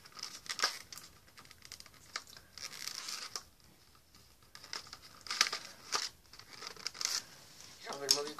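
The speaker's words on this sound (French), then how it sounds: "J'ai carrément enlevé le scotch" Adhesive tape peeled off a Lego Ninjago magazine in short tearing and crinkling bursts, quiet and close, interspersed with soft speech.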